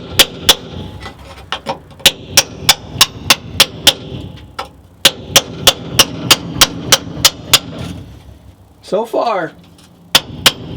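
A 3-pound sledgehammer drives a chisel into the metal floor of a 1958 Volkswagen Bug. The sharp, ringing impacts come in fast, steady bursts. A brief pause with a voice breaks the run before the strikes resume.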